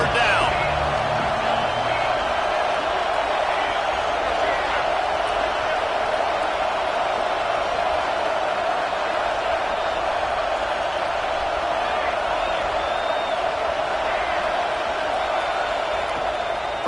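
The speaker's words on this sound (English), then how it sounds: "Decibels rising as the crowd gets behind this defense on third down" Crowd at a college football game in a Penn State stadium roaring behind the defense on a third down, a loud sustained wash of cheering throughout with a commentator talking over it.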